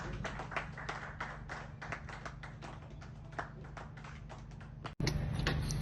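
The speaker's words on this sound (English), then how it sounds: "Another round of applause, please." Audience applause after a health talk for people at 45, a dense run of hand claps that stays steady and fairly loud before cutting off abruptly near the end.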